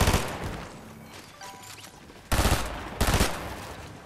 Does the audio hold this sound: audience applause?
no